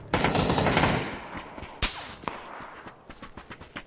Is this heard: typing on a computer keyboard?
no